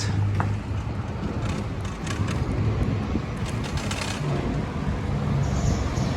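Continuous street traffic noise on Remedios Street, Malate, Metro Manila, engines rumbling and passing vehicles blending into a steady roar, with occasional clanks and higher hisses.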